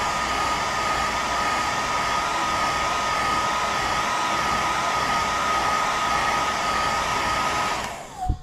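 A heat gun runs continuously while heat-setting paint on a fishing lure, a loud, steady blowing whoosh with a constant motor hum that cuts off abruptly at the end with a brief clunk.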